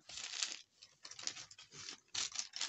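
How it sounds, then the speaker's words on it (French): Close, crackly bursts of adhesive tape being pulled and pressed down, coming in several rough stretches with short pauses between. "Je colle mon scotch"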